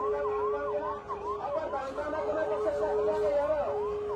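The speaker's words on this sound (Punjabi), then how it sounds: "ਲਗਾਤਾਰ ਫਿਰ ਤੋਂ ਐਂਬੂਲੈਂਸ ਆ ਰਹੀ ਆ" An ambulance siren wails in repeated rising and falling sweeps, steady and fairly loud throughout, at a farmers' protest at the Khanauri border, with crowd chatter underneath.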